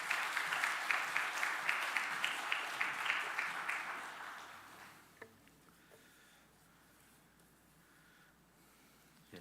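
A church congregation claps steadily in welcome for the pastor during a Sunday afternoon service, the applause fairly loud for about five seconds before fading into quiet room noise.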